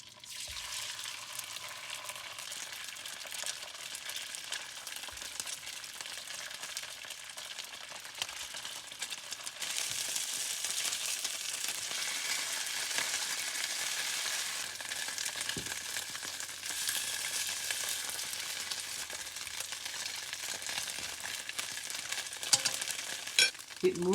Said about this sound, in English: Pan-fry both sides until golden brown.